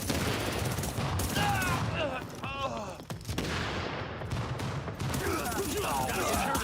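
Video-game gunfire rattles in dense bursts and rapid fusillades, loud and close, with a voice talking over the shooting throughout.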